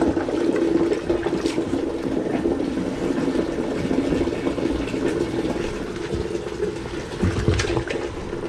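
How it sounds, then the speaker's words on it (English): Water runs steadily into a tub holding OxyClean to soak shoes, a close, continuous gushing fill that lasts several seconds without pause. "Now we're going to add some water, and then we'll throw in the shoes."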